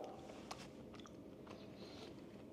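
Close biting and chewing of biltong, a South African dried beef, with steady, quiet, crunchy mastication that runs continuously with a few sharper bites.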